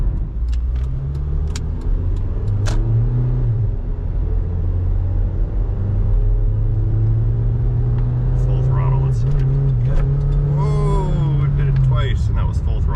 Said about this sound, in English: I'm hearing constant ping, ping, ping, ping, ping sounds.